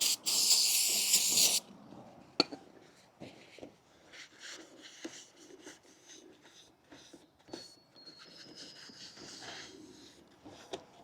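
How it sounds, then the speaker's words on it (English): A can of brake cleaner sprays onto brake parts on a Chevy Colorado in one loud, near hissing burst of about a second and a half, followed by faint clinks and quiet shop handling sounds. "We will take some brake cleaner."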